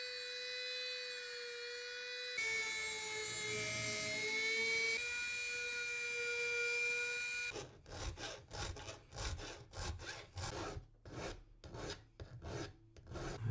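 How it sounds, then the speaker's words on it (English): An American Lock Lishi-style lock pick is ground down with a steady, high-pitched rasping whine that shifts pitch a few times, then gives way to rougher, choppy scraping strokes. "So I've now finished the grinding process."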